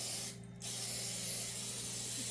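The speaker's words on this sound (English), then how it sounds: "take some Pam and I'm going to spray the tops of these" Pam cooking spray is sprayed onto the tops of sandwich rolls for an Italian hoagie, giving a brief close hiss of about a quarter second over steady background hum.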